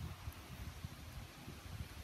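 Steady outdoor wind buffeting a microphone on farmland being prepared for growing, a low rumbling rush with soft gusts, faint and continuous with no talking.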